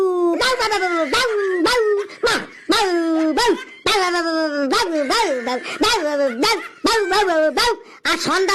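A human voice imitates a dog barking, a rapid run of repeated, pitched 'woof'-like yelps delivered close and loud in a steady rhythm.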